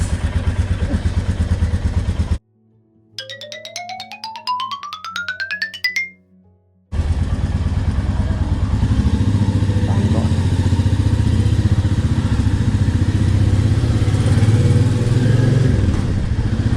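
A Royal Enfield Meteor 350 motorcycle rides along a highway with a loud, steady engine drone, broken by a quiet gap with a rising musical tone before the riding noise returns and continues.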